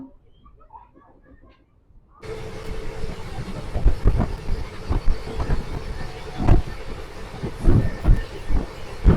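A Delhi to Jaisalmer passenger train rolls along the rails near Ratangarh Junction, starting after a quiet moment with a rushing rumble and irregular wheel thumps and clacks, loud and close, with faint birds and voices early on.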